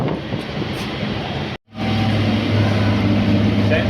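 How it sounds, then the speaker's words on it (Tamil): A commuter train pulls out of Puzhuthivakkam station on the Velachery to St. Thomas Mount line, heard from inside as a steady loud rumble, broken by a brief cut before the running noise resumes. "இப்போ நம்ம ட்ரெயின் புழுதிவாக்கம் ஸ்டேஷன்லேருந்து கிளம்பிடுச்சு."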